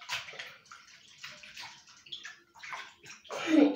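Hands being washed with soap under running water, with bursts of splashing and rubbing that swell and fade, close by and growing louder toward the end, with no talking.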